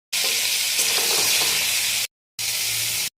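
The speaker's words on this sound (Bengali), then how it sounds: "তেল গরম হয়ে গেছে, এবার ফুলকপি আর মাছগুলো ভেজে দেবো।" Cauliflower and parshe fish frying in hot oil in a home kitchen, a dense close sizzle that cuts out briefly, then resumes for a shorter burst, with faint crackling and no talk.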